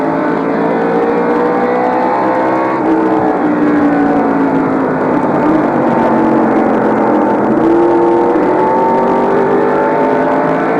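In-car sound from Harry Gant's number 33 NASCAR race car at North Wilkesboro in 1989: a loud, steady engine roar held at high revs, with pitch sliding up and down through shifts and corners, with no talk over it.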